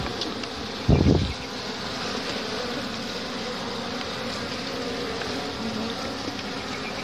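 Honey bees drone steadily around their nest in a dense, continuous buzz heard up close, with one brief low thump near the start and no talking.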